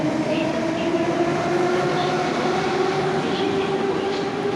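A Moscow metro train pulls away after its doors close, a steady loud rumble with a tonal motor whine running throughout, heard from inside the carriage.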